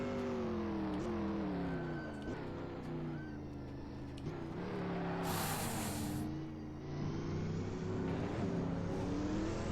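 Race car engine in the Assetto Corsa racing game. It revs steadily with rising and falling pitch through gear changes and gives a brief burst of hiss midway. It plays close and alone, without talk.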